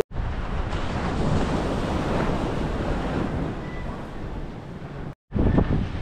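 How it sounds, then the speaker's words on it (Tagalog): Ocean waves washing onto a seashore, a continuous loud roar of surf with wind buffeting the microphone, cutting out briefly near the end before the surge returns. "lalakad-lakad ulit ako dito sa tabing dagat"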